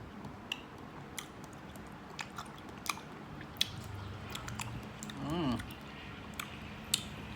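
Someone chews and tastes ripe papaya, soft close-up wet chewing with small bites and smacks, a brief murmur partway through.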